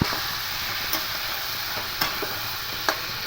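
Spices being sautéed in hot oil for a thin rohu fish curry with ridge gourd and potato, a steady loud sizzle with a few sharp spatula scrapes against the pan, no voices.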